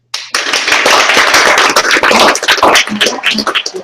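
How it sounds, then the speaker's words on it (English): Audience applause at an ALE MAX club meeting: a dense, loud burst of many hands clapping together, sustained for a few seconds before thinning into scattered claps as it fades out. "please give all of you self a big applause"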